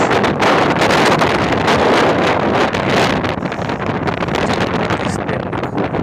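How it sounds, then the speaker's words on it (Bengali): Cold wind outdoors in Baku, Azerbaijan, buffeting the microphone in strong, continuous gusts that roar loudly and ease slightly near the end. "বাতাস"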